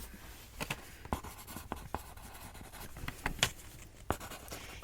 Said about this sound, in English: And then you're just going to write that down.